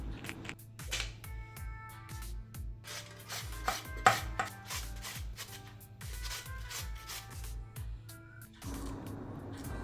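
Peeled raw potatoes rubbed against a hand grater, a close run of rhythmic rasping strokes with short pauses between bursts, ending in a softer scraping shuffle, with no voices.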